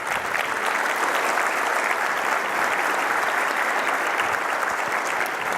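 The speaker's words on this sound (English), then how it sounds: "So let's give them a round of applause" A conference audience applauds platinum sponsor Microsoft at an opening session, with steady, dense clapping from many hands held at an even level throughout.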